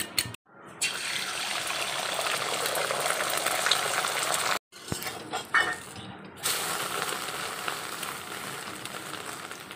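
An egg frying in a pan with onion and green chilli in a home kitchen gives a steady, close sizzle that cuts out briefly twice before carrying on.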